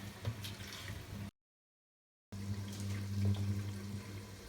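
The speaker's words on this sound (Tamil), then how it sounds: "கொஞ்சம் தண்ணி ஊற்றிக்கலாம்." Water poured into a pot of simmering egg gravy (muttai kuzhambu) on the stove, a steady soft trickling splash with a low hum beneath, broken by a brief silent gap.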